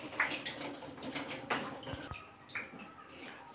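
Water rushes steadily through the pipe of an electric water geyser after its inlet is reopened during a repair, a continuous close splashing flow with a few brief knocks and gurgles.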